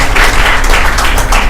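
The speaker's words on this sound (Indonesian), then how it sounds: "Kita beri tepuk tangan pada Bung Yudi." Applause from the audience at an Indonesian cultural discussion forum, a steady dense patter of hand claps filling the room at close range with no voices over it.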